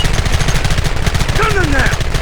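Rapid machine-gun fire in Red Dead Redemption, a loud, steady stream of shots close by, with a voice briefly shouting over the clatter near the end.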